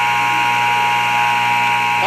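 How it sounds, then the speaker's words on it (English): Buzzer ending the third quarter of a varsity high-school basketball game in a gym, one long, loud, continuous electronic blare that fills the whole stretch over crowd noise. "the buzzer sounds for the end of the third quarter"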